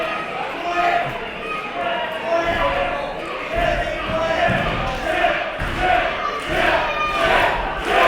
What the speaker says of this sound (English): The audience asking for chips again, Langell.